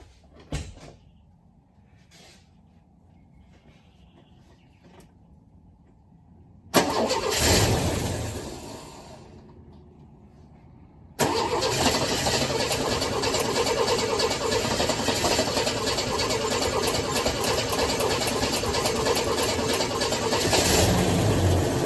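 A Ford XE Falcon's carburetted engine is started cold: a cranking burst, a brief pause, then the engine catches and settles into a loud, continuous running roar.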